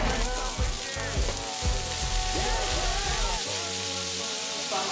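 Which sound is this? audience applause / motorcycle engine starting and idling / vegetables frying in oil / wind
vegetables frying in oil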